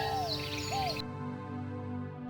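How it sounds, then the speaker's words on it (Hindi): Koel calling in a bright outdoor daytime scene: two rising whistled notes, fairly clear over a steady background tone, before the sound cuts to a quieter hum. "कोयल की कूहू कू।"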